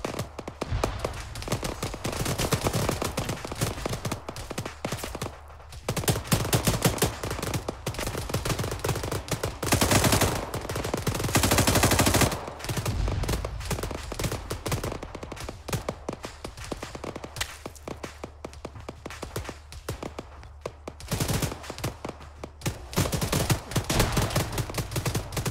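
Sustained automatic gunfire from the military shooter Arma 3 rattles on almost continuously, with dense bursts and brief lulls, loud and close, alone without talk.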